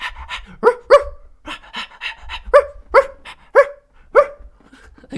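A man imitates a dog with a run of loud, close, rhythmic barks and panting huffs, about eight sharp yelps spaced across the stretch with short breathy gaps between them.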